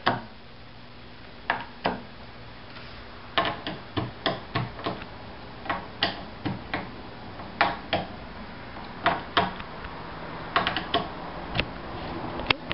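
A screw is driven by hand to fit an adjustable demo alpine ski binding toe onto its track, giving faint irregular clicks and ratcheting ticks spread across a quiet room, with no talking.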